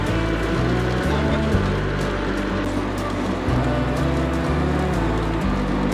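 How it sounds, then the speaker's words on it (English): Steady rain falls outside a Civil War era mansion in downtown Vicksburg, Mississippi, a loud, even wash of hiss with a low rumble underneath throughout. "And it's raining!"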